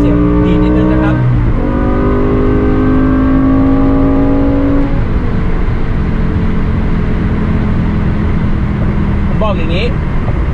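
BMW M5 E60 with a V10 engine revving hard through gear shifts, loud rising engine tones that drop sharply at each upshift and then settle into a steady drone, with someone talking over it.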